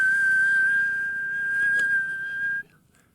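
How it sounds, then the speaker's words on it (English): A person whistles a single steady monotone note through a golf swing, clear and close, holding the pitch before stopping abruptly near the end. "I want a monotone whistle through the whole swing."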